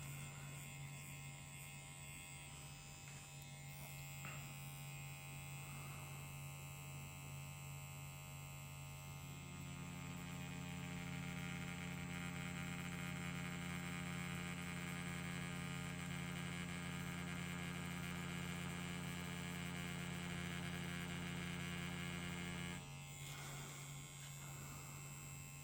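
A wireless Inkin Inferno tattoo machine with a 3 round liner needle runs as a steady electric hum and buzz for about 25 seconds, quiet and continuous, growing a little stronger midway as it pulls a line, with no voices.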